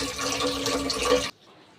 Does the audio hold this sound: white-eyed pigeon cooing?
no